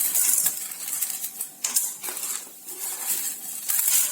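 Dry chana dal, urad dal, coriander seeds and black pepper tumble into sesame oil in a pan, making a close, rattling patter of grains with scattered sharp clicks and light sizzling over a few seconds.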